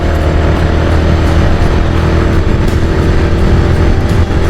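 A motorcycle engine drones loud and steady as the bike climbs a slope on a rural road toward a reservoir, a close continuous rumble with no pauses.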